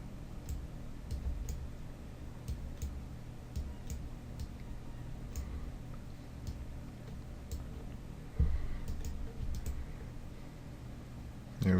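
Mouse clicks in design software while effects are previewed: several faint, sharp clicks spaced through the stretch, close and quiet over a steady low hum.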